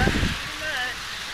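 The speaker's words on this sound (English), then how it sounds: "Rain. Yeah. We're chasing rain." Rain falls steadily outdoors during a rain-chasing outing, a dense, even hiss of drops filling the whole clip at moderate level with no voices over it.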